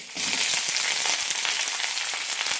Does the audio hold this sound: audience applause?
no